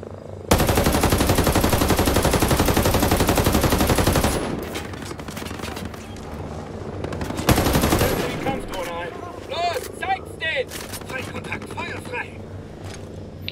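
Sustained rapid machine gun fire in a video game, a faction mission, rattles loudly for several seconds, stops, then bursts again briefly amid scattered game sounds and a voice.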